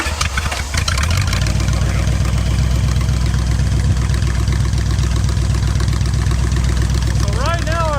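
An abandoned muscle car's engine idles steadily and loudly after its first start in 35 years, a dense continuous rumble with a brief rough start at the beginning and a rising whine near the end.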